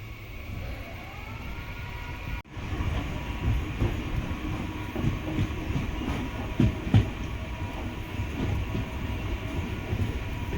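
From aboard a Tiruvannamalai to Tambaram MEMU train near Polur, a steady rolling rumble carries on with periodic clickety-clack of wheels over joints and a brief sharp jolt early on.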